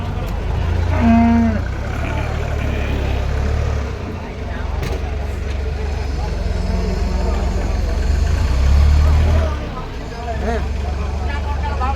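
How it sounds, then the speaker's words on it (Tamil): Jersey cattle at a rural cow market in Tamil Nadu, lowing now and then amid a steady low rumble of idling vehicles and people talking nearby. "இங்கே பாருங்கள் ஜெர்சி தான் இன்றைக்கி வந்து அதிகமாக வந்திருக்குங்க"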